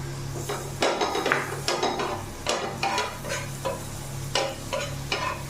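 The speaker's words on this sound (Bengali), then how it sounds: "বাটারের মধ্যে ক্যাপসিকাম মরিচটা আর টমেটোটা একটু ফ্রাই করে নেব।" Capsicum and tomato fry in butter in a pan, giving a steady sizzle, while a utensil scrapes and stirs in repeated strokes with light clinks of metal against the pan.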